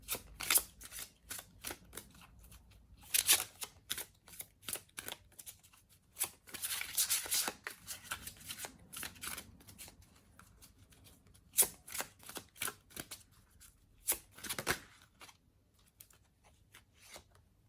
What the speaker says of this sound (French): Je vais te tirer une carte conseil.